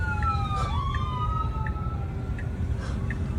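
Ambulance sirens from footage of traffic pulling over, wailing and yelping tones sweeping up and down, steady and somewhat distant over road noise.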